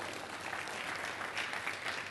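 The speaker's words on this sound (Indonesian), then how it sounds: "Tepuk tangan bagi Allah kita dong" Members of a church congregation clap together in praise of God, a thick, even wash of applause filling the room from start to finish, with no talking heard.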